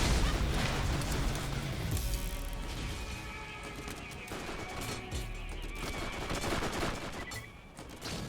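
Rapid automatic gunfire in Borderlands (Secret Armory of General Knoxx DLC), bursts of shots chattering continuously with crashing impacts and booms mixed in, loud and dense throughout with game music underneath.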